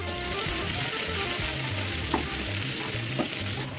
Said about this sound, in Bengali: এরপর ভালো করে নেড়ে দেবো।